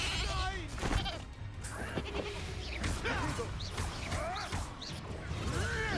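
Goat bleating from a transformation spell in Hogwarts Legacy, several wavering bleats through the clip mixed with game clatter and thuds, with someone talking over them.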